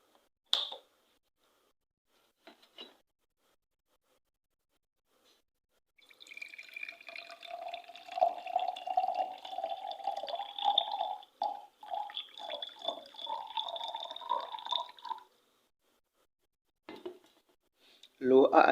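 Water is poured into a container until it reaches a black probe in a transistor lamp experiment, giving a close, trickling fill that rises in pitch over several seconds, with brief handling knocks before and after.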